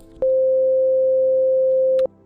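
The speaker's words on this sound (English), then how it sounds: "it's just a sine wave going back and forth at one frequency" A steady sine wave test tone at a single fixed pitch holds for about two seconds, loud and perfectly even, starting and stopping abruptly with small clicks at each end.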